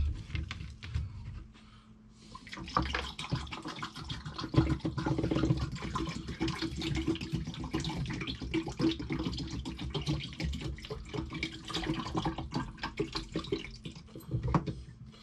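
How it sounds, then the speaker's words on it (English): Photographic fixer pours and splashes steadily into a film developing tank for several seconds, with light sloshing and small knocks mixed in. "Now I'm going to pour the fixer in."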